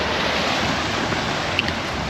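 Ocean surf washing onto the beach at Anjuna, Goa, near sunset, a loud steady broadband roar of waves mixed with wind buffeting the microphone, with no voices.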